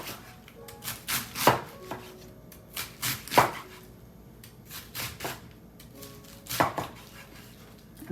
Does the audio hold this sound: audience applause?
no